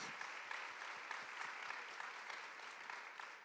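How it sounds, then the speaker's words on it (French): Audience applause at a public conference session, many hands clapping steadily for a few seconds in a room, moderately loud and sustained before tapering slightly at the end. "Bravo, on peut l'applaudir."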